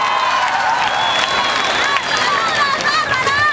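A crowd at a beach show at Punta Camaná with Dan Den cheers and claps loudly, a dense, close roar of applause mixed with high shouts and whoops.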